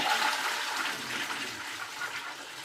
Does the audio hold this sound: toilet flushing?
yes